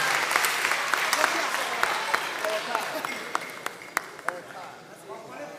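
An audience at a live gas challenge university quiz contest applauds a team, a moderate, steady patter of many hands with scattered sharp individual claps standing out and voices talking over it.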